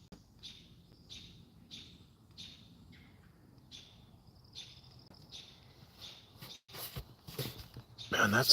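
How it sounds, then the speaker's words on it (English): Robins sing in repeated short bright chirps spaced about a half second apart, moderately near, outdoors on the Gulf Islands in the North Pacific, with low background rumble and a louder rustling burst at the end. "I'm listening to the robins going crazy."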